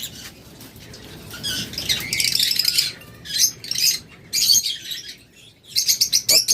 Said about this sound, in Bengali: প্রত্যেকটা রেডাই পাখি একদম মাস্টার পেয়ার ডিম বাচ্চা করা পাখি